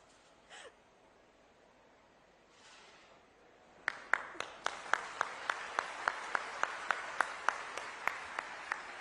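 An audience breaks into applause as Atishi begins to cry, starting after a few quiet seconds with sparse, distinct, evenly spaced claps that carry on steadily, fairly close and moderately loud.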